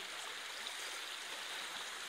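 Steady rushing water of a flowing stream, continuous broadband wash with no pauses, fairly close and moderately loud.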